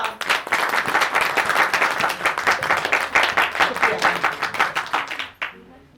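Audience applauding a street play on Hindu-Muslim unity: loud, continuous rapid clapping from a close crowd for about five seconds, then tapering off quickly into quiet.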